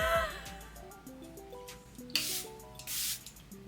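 Charlotte Tilbury Airbrush Flawless Setting Spray is misted in two short hissing bursts, quiet and close, with soft background music playing around them.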